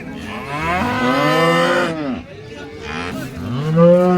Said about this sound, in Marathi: दोन्ही काळ्या बांड्या गुंड्या गाय आहेत